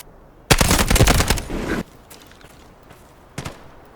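Gunfire in a Delta Force shooter: a close, loud burst of rapid automatic shots lasting over a second, followed by quieter scattered noise and one more brief sharp report near the end.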